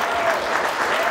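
Brief burst of audience clapping at a gathering honouring Kenya's First Lady Rachel Ruto, a dense, even patter with possible faint voices underneath.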